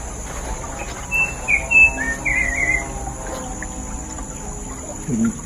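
A bird calls several times in short chirping bursts against steady background hum, with a low thump near the end.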